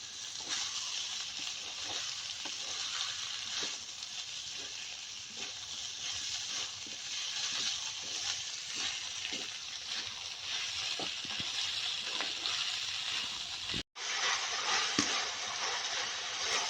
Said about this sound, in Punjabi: ਪਿਆਜ਼ ਤੇ ਆਲੂ ਜਿਹੜੇ ਆਪਣੇ ਮਸਾਲੇ ਦੇ ਨਾਲ ਹੀ ਭੁੱਜ ਜਾਣਗੇ